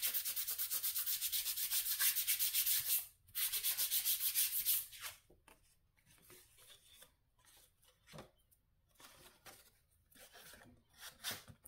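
A paper trimmer (massicot) gets cleaned with steady rubbing and brushing, a loud continuous scrub at first that breaks into short, scattered swipes and scrapes, close by and with no talk.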